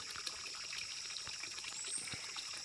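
Water trickles steadily and faintly through a small spring channel outdoors, a soft continuous dribble with no talking.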